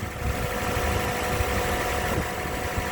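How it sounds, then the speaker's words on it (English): A 2018 Toyota Corolla engine idles steadily at close range, a low continuous rumble with a faint vibrating hum and no other sounds. "with the motor running"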